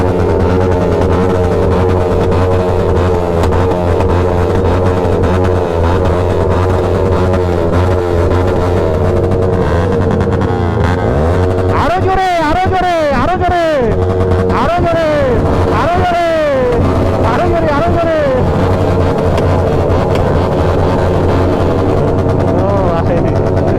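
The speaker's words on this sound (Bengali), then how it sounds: "বাইকের সাউন্ড শুনলে সবাই একটু বেশি খুশি হয়ে যায়" A motorbike engine idles and revs steadily near the microphone while people talk over it, with a rising and falling rev burst partway through.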